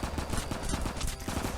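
Rapid automatic pistol fire in a video game, a dense run of close, loud shots in a steady rhythm that fills the whole stretch without pause.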